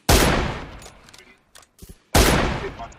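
Two loud, close gunshots in the mobile battle royale game PUBG Mobile, each a sharp blast with a decaying tail, separated by faint clicks and small sounds.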